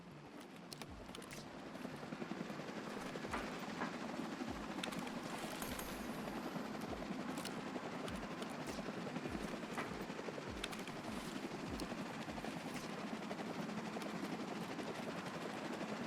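A helicopter approaches in a multiplayer shooter game, its steady rotor drone filling the scene continuously at moderate volume, alongside scattered game effects and faint clatter.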